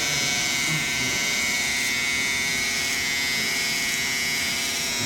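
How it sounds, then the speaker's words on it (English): An electric hair trimmer buzzes continuously as its blade, laid flat, cuts hair in a barbershop fade, a steady close-up drone with slight changes in pitch and no talking. "when I'm going to make more of a flat shape, I'll lay the trimmer nice and flat"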